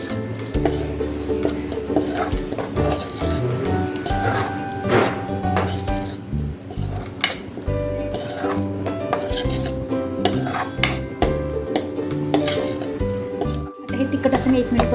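Turmeric and chili powder are sautéed and stirred in a pan for a dried lima bean curry, with a spoon clinking and scraping against the metal under steady talking.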